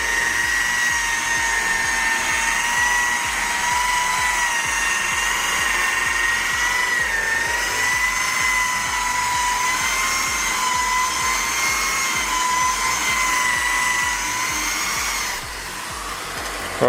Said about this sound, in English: We'll get the buffer with a rubbing compound pad and we'll start buffing at about 1900 RPMs.